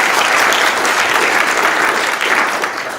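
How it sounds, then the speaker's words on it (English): Sustained, loud applause from a conference audience at a genomics forum closing session, a dense even wash of clapping that holds steady for the full stretch and tapers slightly at the end. "So a great round of applause for you."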